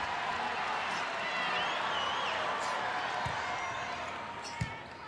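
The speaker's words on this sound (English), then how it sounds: "And the crowd applauds the line judge for the call." Crowd in an arena at a 2006 NCAA women's volleyball final between Nebraska and Stanford, broad steady applause and crowd noise filling the clip, with a couple of sharp thumps.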